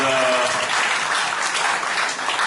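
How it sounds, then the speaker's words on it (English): A university audience applauds their vice chancellor during a lecture on African university rankings, steady broadband clapping filling the whole stretch, with a voice briefly audible at the start. "I thought you will applaud your vice chancellor"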